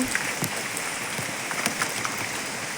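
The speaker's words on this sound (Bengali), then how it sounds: "এত বৃষ্টি হচ্ছে" Steady rain falls in a dense, continuous hiss, with scattered louder drops and splashes standing out against a constant wash of sound.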